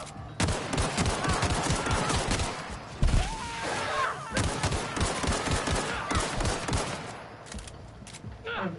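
Rapid gunfire in a video game, repeated sharp shots in quick bursts with a heavy boom near the middle, loud and close, tapering off toward the end.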